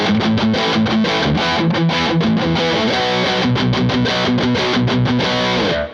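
Harley Benton Fusion-T II HH electric guitar played through heavy distortion, a driving riff of rapid palm-muted chugs and ringing chords, loud and close, alone without speech, ending with a short cutoff.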